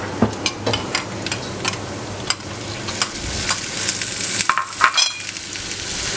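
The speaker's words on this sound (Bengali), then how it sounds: "এখন আমি নাড়ব" Chili, coriander and onion paste get stirred in a hot pan, with frequent crisp spoon scrapes over a continuous frying hiss. The stirring is close and fairly loud, with an uneven rhythm and no speech.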